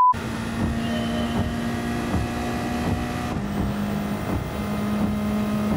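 A 1997 Toyota Supra GT500 race car in Gran Turismo 7 runs as a continuous buzzing engine drone with a steady pitch that shifts once partway through, alone with no voices.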